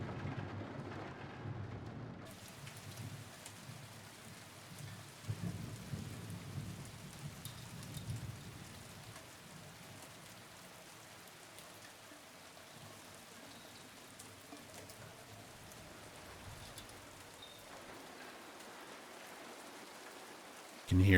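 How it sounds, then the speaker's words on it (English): Steady rain falls with low rolls of thunder in the Silent Hill 2 Remake, soft and continuous, with a sudden louder burst at the very end. "the ASMR rain sounds"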